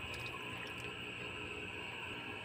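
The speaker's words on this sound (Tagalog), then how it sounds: "Tapos lagyan natin ng tubig na 2 cups." Two cups of water poured into a cooking pot holding four pieces of fish for tinola fish soup, a steady, close, continuous splashing pour with no talking.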